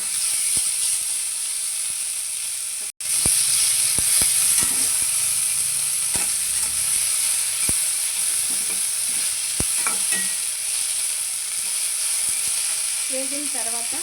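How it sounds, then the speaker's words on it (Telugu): Garlic cloves and coriander leaves frying in a pan, with a steady soft sizzle and repeated sharp clicks of a spatula stirring against the metal, close and alone without talk. "వెల్లుల్లి రెబ్బలు కొంచెం వేసి బాగా వేపాలి. వేగిన తర్వాత అందులో కొత్తిమీర వేయాలి. కొత్తిమీర బాగా వేపాలి."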